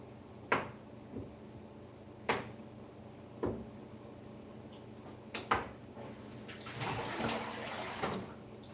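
Water runs while black radishes are washed indoors, with a few sharp knocks and clunks at intervals and a louder, steady stream of splashing rising near the end.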